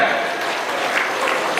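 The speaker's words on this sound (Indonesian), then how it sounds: "Tepuk tangan." Audience at a regional teachers' association (PGRI South Sumatra) board inauguration ceremony applauds in a dense, continuous patter of clapping that holds steady throughout.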